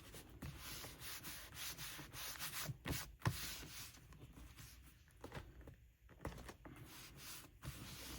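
Paper is rubbed and smoothed down onto a journal page by hand, giving a close, soft scratchy swishing in uneven strokes with occasional light taps, no voices.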